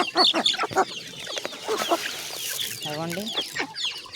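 Guinea fowl cluck and chatter in a series of sharp, repeated calls nearby, with a brief spoken word mixed in.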